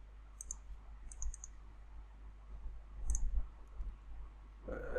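Computer mouse clicking: a few small, sharp clicks in short pairs and clusters, close and quiet against a low background hum.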